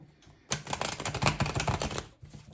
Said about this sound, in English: give the deck a good old shuffle.